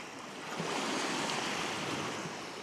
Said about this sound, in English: those waves are hitting the tripod and causing just a little bit of shake